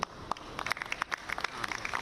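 Scattered clapping at the AirAsia India Lucknow flight inauguration, a few distinct hand claps rising into a loose patter, fairly faint and sparse over two seconds.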